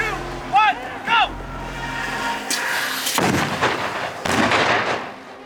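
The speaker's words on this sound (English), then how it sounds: "There are 2 explosions that go off in this shot." Two heavy stunt explosions boom out in quick succession on a film set for the Halo series, loud and close, after a voice speaks over background noise.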